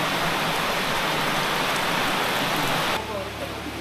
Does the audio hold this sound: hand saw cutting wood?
no